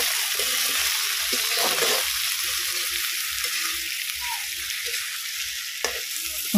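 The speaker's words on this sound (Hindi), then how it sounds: "आलू डाल दिया हमने, चने को डालेंगे, अब इसको अच्छी तरह से चलाएंगे। चलाते हुए 2 मिनट पकाएंगे।" Potatoes and chickpeas frying in a pan for a spicy bitter gourd and tomato bhujia, a loud steady sizzle with repeated scraping strokes of a spoon stirring close by.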